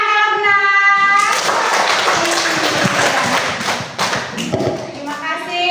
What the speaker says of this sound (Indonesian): Boleh tepuk tangan kalau benar.